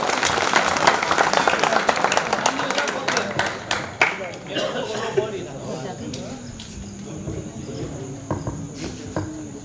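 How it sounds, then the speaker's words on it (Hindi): An audience claps loudly to welcome a poet onto the stage, with dense applause that thins into scattered claps and fades, and voices murmur underneath. "जोरदार तालियों से स्वागत करें।"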